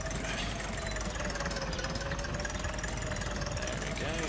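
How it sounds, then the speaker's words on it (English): A vintage tractor engine idles in Agricultural Simulator Historical, a steady low rumble with a faint knocking pulse that carries evenly throughout, under a wash of broadband noise. "Good old Farmer Giles and his tractor."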